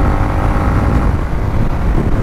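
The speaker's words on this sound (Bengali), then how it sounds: "দেখছেন আমার বাইক স্টিল রানিং 85-তে" A motorcycle runs at about 85 km/h on the road, its engine drone and wind rush loud and steady throughout with no break or talking.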